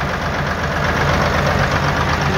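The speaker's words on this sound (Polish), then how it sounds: "Jak motorek pracuje." A Bizon combine harvester engine runs steadily at idle close by, a loud, even, rough mechanical rumble with a knocking texture and no pauses.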